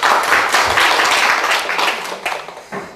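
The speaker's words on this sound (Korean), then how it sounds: "박수 한번 쳐주시고" Audience applause filling a lecture hall at a Korean real-estate law class, a dense, steady wash of many hands clapping that thins toward the end.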